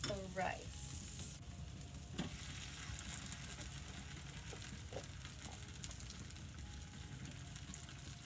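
Rice sizzles steadily in a hot pan for fried rice, a dense continuous crackle with a few faint clinks, heard up close with no talking.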